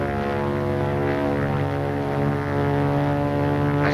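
A propeller-driven airplane engine drones loudly and steadily throughout, holding a constant pitch with no voices present.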